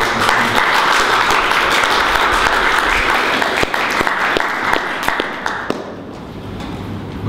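Audience at a national meeting in Prague gives sustained applause, steady and fairly loud, with sharper individual claps standing out before it thins toward the end.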